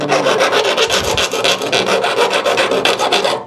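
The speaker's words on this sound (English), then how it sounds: "Now I'm going to use a metal file to get" A hand metal file rasps along the cut metal edges of a side window opening in a VW T5 or T6 van, quick repeated scraping strokes, loud and close with no talk.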